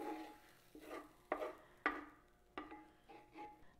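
Sautéed vegetables being scraped and spooned from a pan into a bowl, a series of sharp clinks and scrapes, about five distinct strikes with soft rustling between, close and fairly quiet with no talking.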